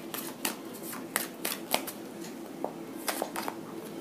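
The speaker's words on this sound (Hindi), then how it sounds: "Let me take more cards, आपके लिए और कार्ड्स देते हैं।" Tarot cards are drawn and handled close up, giving quick papery flicks and slaps in an irregular scatter over a soft room hum, with no speech.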